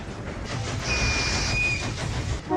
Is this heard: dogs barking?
no